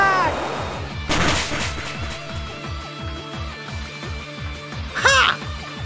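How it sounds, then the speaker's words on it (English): A Hydro Pump attack sound effect from Pokemon FireRed, a loud burst of rushing noise over steady rhythmic game music, with a warbling chirpy cry flaring up near the end. "Shadow, Hydro Pump Attack!"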